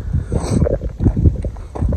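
Wind blowing at a cold riverside campsite, gusting and buffeting the microphone in low rumbling surges, loud and close.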